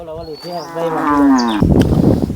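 Cattle being herded off give a single drawn-out moo, loud and close, sliding down in pitch before farmyard shuffling noise takes over.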